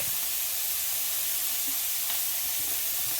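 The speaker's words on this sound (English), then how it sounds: "add the garlic and the chipotle paste to the beef and stir fry for 1 minute" Beef stir frying with garlic and chipotle paste in a hot pan, a steady close sizzle and hiss running throughout with faint stirring scrapes and no voices.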